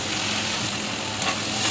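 Chopped tomato stirred into onions frying red in a pan for keema chana, a brief dense close sizzle with a faint scrape of stirring, no voices.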